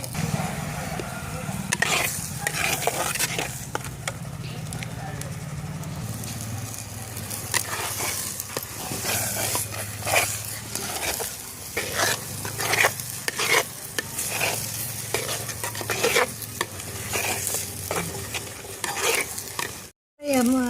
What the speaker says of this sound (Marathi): आता तेल सुटेपर्यंत मसाला चांगला परतून घ्यायचा आहे.